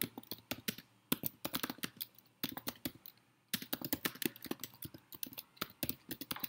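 Someone types on a computer keyboard in quick, irregular runs of crisp, close keystrokes, with a brief pause midway before the tapping resumes.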